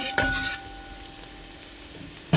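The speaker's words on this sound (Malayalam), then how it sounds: "ഇനി ഉള്ളി ഒന്ന് നന്നായിട്ട് വഴലട്ടെ" Onions softening in a pan for a spicy beef fry, a faint steady sizzle with a clatter at the start and another sharp knock at the end, no voices.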